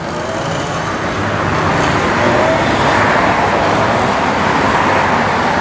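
A 1970 Chevrolet Chevelle SS engine runs steadily, a loud, dense rumble with a roaring wash that holds without a break for several seconds and swells slightly partway through; no voices are heard.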